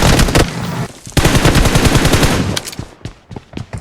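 Rapid bursts of automatic gunfire from the battle royale video game BGMI (PUBG), loud and close, in dense volleys that break off into scattered single shots near the end, with no talking.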